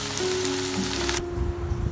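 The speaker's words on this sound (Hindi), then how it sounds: "भिंडी हमारी फ्राई हो रही है।" Okra (bhindi) frying in a pan for dhaba-style masala bhindi, a dense bright sizzle for about a second alongside a low steady hum, then the sizzle drops away abruptly, leaving only the hum and low rumble.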